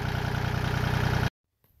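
A Kubota 2501 compact tractor's diesel engine idles loudly and close with a steady throbbing chug, then cuts off abruptly, leaving near silence.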